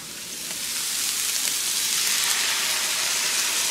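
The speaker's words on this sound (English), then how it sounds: "now I need to add in the broth" Broth poured into a pan of hot meat sets off a loud, steady hiss of sizzling that rises quickly and holds, bright and close, with no talking.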